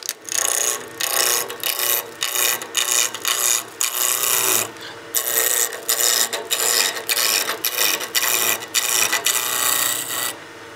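Wood lathe spinning at about 2,000 RPM while a gouge takes peeling cuts on a birdhouse ornament, giving a loud, continuous scraping rasp broken by short pauses as the tool lifts and re-engages.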